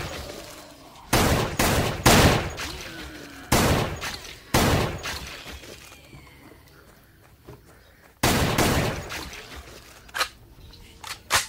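Gunfire sounds from the video game SixthSense as several loud, sharp bursts with quieter gaps between them. The shots are close and punchy, and softer faint clicks fill the pauses.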